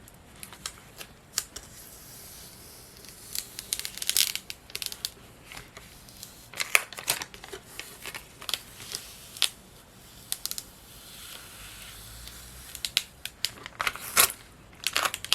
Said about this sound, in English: let's peel this up